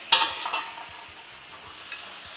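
Lobster being stirred in a garlic black bean sauce thickened with cornstarch, with a few quick scraping stirs near the start over a soft, steady background sizzle and no talking.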